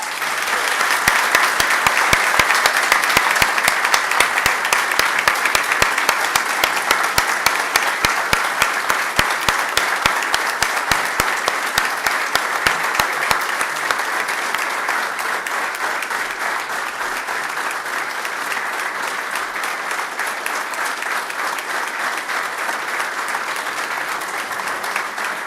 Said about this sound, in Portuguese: solicitando uma salva de palmas